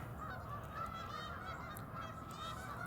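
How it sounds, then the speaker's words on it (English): Geese honk repeatedly at a waterfowl hunting spot as a few restless birds fly around, their calls fairly steady and moderately close over a constant low background rumble. "A couple of geese are starting to get a little restless and flying around,"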